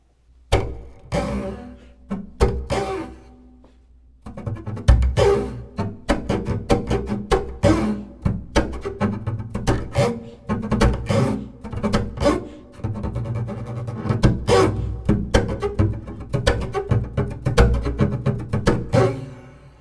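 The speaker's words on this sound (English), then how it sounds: "these scrapes are a nice way of adding a lot of timbral variety and depth" A rhythmic groove of percussive scraping and slapping on a double bass, with rasping strokes and plucked low notes, close and fairly loud, no voices.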